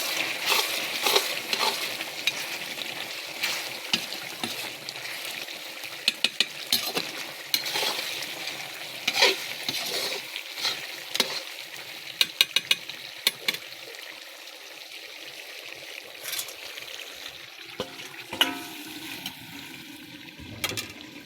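Meat sizzles and fries in a pan with garlic, a steady hissing crackle broken by scraping, clinking stirring strokes, gradually quieting toward the end.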